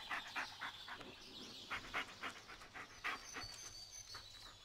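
A dog pants rhythmically and close by in the video game Blair Witch, with quick regular breaths repeating throughout over faint ambient background.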